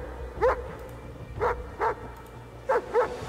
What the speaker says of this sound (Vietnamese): Anh em nghe gì không? Đó chính là tiếng sủa của chú chó Zarik